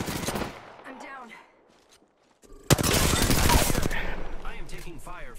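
Rapid automatic gunfire in a video game shootout, dense loud bursts that drop out briefly and then return in a sustained volley, with a player's voice over the shots.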